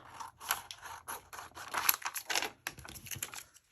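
Scissors snip through an epoxy phrase sticker at close range, a run of quiet crisp cuts with light paper crinkling between strokes and no talking.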